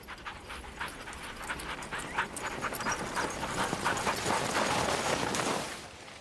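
Sled dogs run in the snow behind a team along compacted snowmobile trails, with steady panting and soft patter of paws continuing throughout at moderate level, fading briefly at the end.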